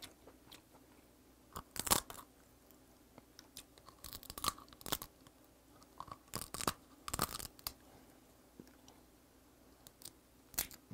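Snow crab legs, Pohang-style, are bitten and chewed up close, giving sharp crunchy cracks of shell in irregular bursts separated by quieter pauses.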